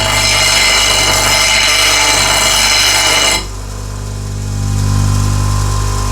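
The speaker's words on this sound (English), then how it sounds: "So this is 80 grit white wheel, and just use it to sort of rough shape the profile." An 80 grit white grinding wheel shapes the profile of a bowl gouge, giving a loud, steady whirring grind with a motor hum that eases off midway and then swells again, heard alone.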